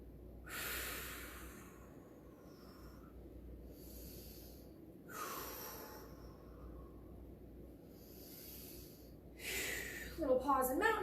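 Slow, rhythmic breathing during a kickboxing workout cool-down, with three soft, airy inhale-exhale cycles spaced several seconds apart, close and quiet, ending in a brief rustle.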